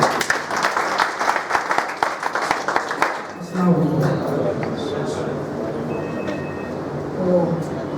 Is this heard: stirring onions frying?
no